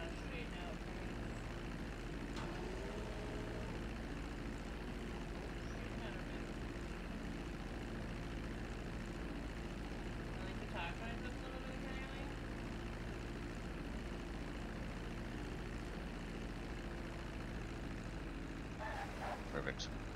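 Simulated airplane engine drone hums low and steady during a landing approach in a flight simulator, fairly quiet and continuous, with faint voices talking over it.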